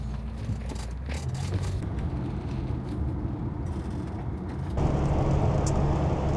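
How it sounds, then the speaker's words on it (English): A camper van cruising on a French motorway on a Saturday afternoon, its engine and tyre roar a continuous loud drone that swells louder toward the end, with no voices. "We've just joined the motorway, getting to our destination, just for 13 kilometres."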